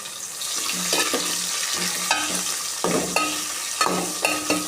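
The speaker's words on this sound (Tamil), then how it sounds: "நறுக்கி வச்ச வெங்காயமும் நறுக்கி வச்ச மிளகாயும் போட்டுறணும் மக்களே. அடுத்து நல்லா வதக்கி விட்டுறணும்" Chopped onions and chillies sizzling and frying in a pan, with repeated scraping and stirring strokes of a utensil against the metal.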